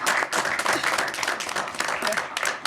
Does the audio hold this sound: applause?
yes